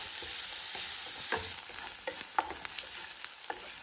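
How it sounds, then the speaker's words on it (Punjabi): Onions with garlic and ginger fry in a pan for a winter methi matar malai curry, with a steady sizzle and several sharp stirring scrapes and taps close up. "ਪਿਆਜ਼ਾਂ ਨੂੰ ਹੁਣ ਆਪਾਂ 6 ਤੋਂ 7 ਮਿੰਟ ਤੱਕ ਪਕਾਉਣਾ ਹੈ।"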